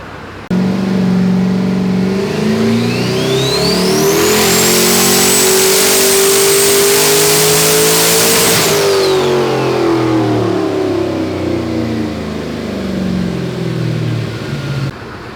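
Ford Fairmont engine on a dyno, loud and steady, climbing in revs with a rising turbo whine, holding near the top for several seconds, then winding back down as the throttle closes.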